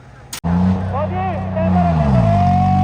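A loud John Deere 5039 tractor engine rumbles steadily and rises in pitch as it revs, following a sharp click, with a voice speaking over it.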